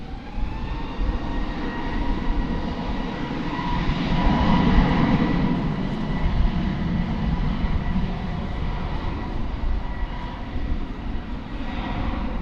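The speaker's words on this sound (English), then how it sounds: "That is American Flight 1159. Let's go into Phoenix, Airbus A321 on Runway DFW." An American Airlines Airbus A321 at DFW airport rumbles loudly on the runway with a broad, continuous roar that swells in the middle and stays strong.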